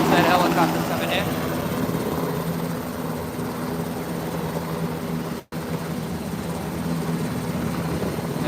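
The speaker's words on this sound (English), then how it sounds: "We got another helicopter coming in." A helicopter flies in over water with a loud, continuous rotor thrum and engine roar that holds steady throughout, with voices audible beneath it.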